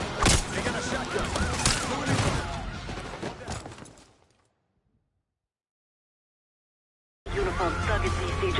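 Gunfire in the Black Ops 6 video game campaign, heavy booming shotgun blasts mixed with other rapid shots for about four seconds, then a fade to silence before the loud firing resumes near the end.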